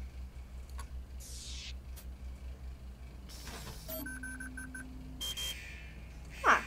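An electronic alarm goes off in The Henry Stickmin Collection video game with a burst of rapid repeated beeps partway through, among other whooshing and clicking game effects.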